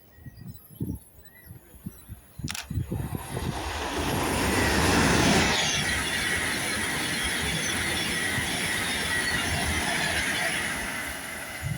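A Class 390 Avanti West Coast train passes through South Kenton station. It builds from a distant approach into a loud, sustained rushing roar that lingers as the carriages go by.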